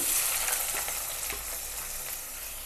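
Onions and mustard seeds fry in hot oil for a South Indian lunch dish, giving a steady close sizzle with a few soft pops and stirring scrapes.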